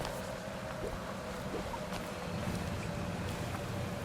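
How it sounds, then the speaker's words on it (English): Steady, rushing ambience inside a waterfall cave in the video game Psychonauts 2: a constant broadband roar of falling water with a low hum beneath, even and unbroken throughout. "Secret waterfall cave!"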